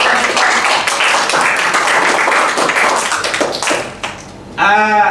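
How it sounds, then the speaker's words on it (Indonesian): A classroom of students claps hands together in a burst of brisk, close applause that thins out over a few seconds, and a voice starts speaking just as it ends. "Tepuk tangan."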